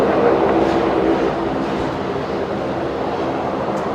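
A Saab turboprop departs Brisbane Airport at twilight, heading out toward runway 01. Its engines make a steady, fairly loud roar that holds, easing slightly partway through, with no speech.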